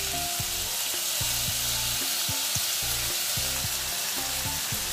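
Soy sauce poured into a pan of adobo-style hotdogs sizzles steadily and loud, a continuous close frying hiss with low bubbling pulses underneath, no voices.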